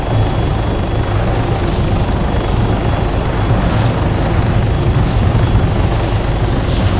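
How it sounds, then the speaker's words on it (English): A helicopter in the video game Arma 3 drones steadily throughout, its rotor and engine noise loud and continuous, with no voices. "it's basically pulling a handbrake turn with a helicopter"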